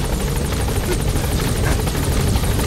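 A golden helicopter in the video game Metal Gear Solid V: The Phantom Pain gives off a loud, constant rotor thrum with rapid chopping blade beats, close and unbroken, with no talk over it.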